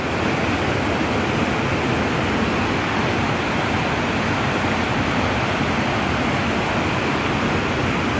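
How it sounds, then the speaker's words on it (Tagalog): Shallow floodwater rushes during heavy rain, a steady, dense broadband roar that stays loud and unbroken throughout, with no voices. "Maliit lang yung baha mga kasing oh."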